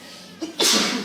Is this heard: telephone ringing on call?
no